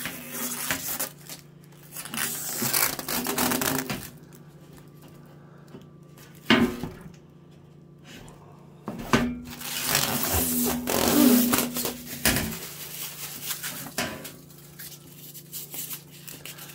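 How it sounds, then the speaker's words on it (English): Chunks of closed-cell foam pulled out of the packaging of a Vevor 30-liter ultrasonic cleaner, giving bursts of squeaky rubbing and crinkly scraping with pauses between pulls, close and fairly loud. "Pull out our chunks of closed cell foam here."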